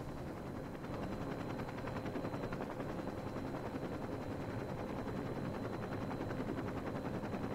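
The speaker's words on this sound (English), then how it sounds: "Always liked this helicopter. It handles a lot better than the Thompson." Helicopter flying in the video game Saints Row 2, a steady, dense rotor and engine roar that holds at constant loudness throughout, with no speech over it.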